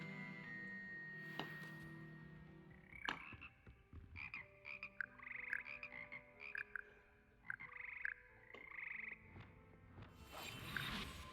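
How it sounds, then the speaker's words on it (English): Frog choir croaking in a music classroom in Hogwarts Legacy: a chorus of short, bright croaks in uneven bursts over a low sustained musical drone, with a louder rush of sound near the end. "Frog choir."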